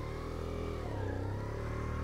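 A Daytona Hobby 50 small motorcycle engine runs steadily and pulls away for a ride, with a continuous low, buzzing drone that rises slightly in pitch, close by and with no talk.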